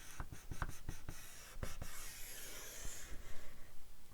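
A bone folder creases a thick manila folder in a few firm strokes, giving short dry scrapes and rubbing taps close up, quiet and free of talk.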